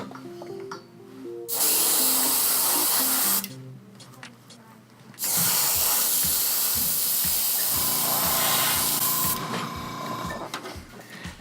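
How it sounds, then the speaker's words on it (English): Spray nozzle releasing varnish mist onto a scale model, a loud steady hiss in long bursts with pauses between, mixed with faint clicking and mechanical sounds in the quiet gaps. "opening the nozzle to the white setting releases a lot of mist actually"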